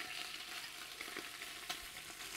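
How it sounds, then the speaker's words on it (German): Goat kid meat sears in a hot pan, a steady soft sizzle and crackle with a few faint stirring scrapes, quiet and close. "Da müssen wir eben das Fleisch erst anbraten."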